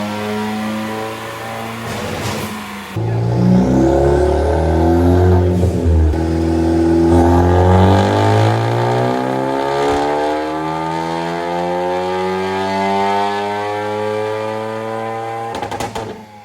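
A Ford Focus ST engine revs hard on a dyno, its rising harmonic roar sweeping up through the gears loud and close for most of the run before cutting off near the end.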